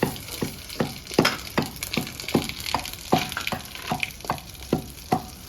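Whole cumin seeds frying in hot oil with bay leaf and dried chilli in a village-style chicken curry kitchen, a close, continuous sizzle broken by regular scraping stirs about twice a second.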